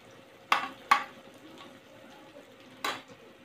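Ginger, green chili and garlic drop into a hot pan of boiled-egg street-food masala, giving a few short sizzling bursts near the start and again toward the end, with quieter frying hiss in between.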